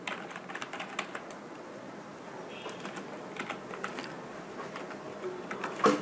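Steady keystrokes on a computer keyboard while writing Java code for an inventory management program, a continuous run of light, close clicks with small irregular bursts and no talk.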